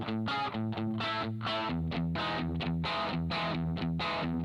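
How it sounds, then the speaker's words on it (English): A Telecaster's bridge pickup running through an Amplitube Marshall Crunch distortion: a crunchy, overdriven electric guitar riff with chugging rhythmic notes and chord stabs, played continuously and prominently with no voice. "I've always loved the Tele bridge pickup with some distortion on it."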